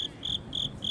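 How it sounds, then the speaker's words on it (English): A cricket chirps three times in quick, high, bright pulses, close and evenly spaced over a faint low background hum. "Someone shoot that cricket."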